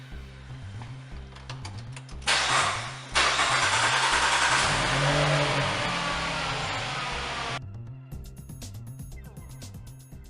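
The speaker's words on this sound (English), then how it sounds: "Put on your seatbelt and then turn on the car." A car engine cranks and catches with a rough burst, then settles into a steady idle that slowly fades before cutting off, with faint rhythmic background music running underneath.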